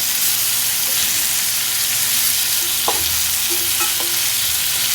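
Steady, loud sizzling of pomfret fish frying in oil in a pan, Malvani style, a continuous hiss with a few soft clinks and scrapes as the pieces are flipped one by one.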